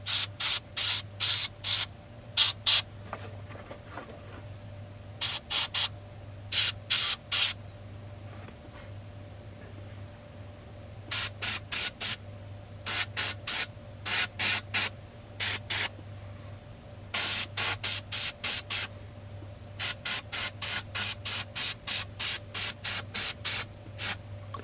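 An airbrush sprays white paint onto a flocked mallard drake decoy in repeated short hissing bursts, some in quick strings and others spaced out, against a faint steady hum.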